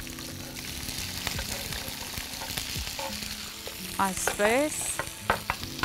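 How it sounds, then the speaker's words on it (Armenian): Mushrooms and green beans sizzle as they fry in a pan, with scraping stirring sounds throughout and a brief spoken word partway through. "հիմա պետք է տապակենք սունկը և կանաչ լոբին"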